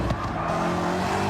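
A tuned Chevy Nova in Gran Turismo 7 slides sideways around a track, its engine droning steadily with a rough tire scrub layered over it for the whole moment.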